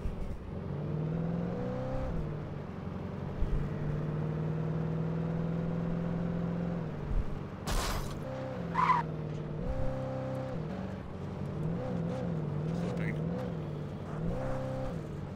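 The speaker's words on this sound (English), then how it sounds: "Back in the truck we go." A truck in Alan Wake Remastered drives with a steady engine drone that rises and falls as it shifts and accelerates, with brief tire noise and clunks, while a voice talks over it at times.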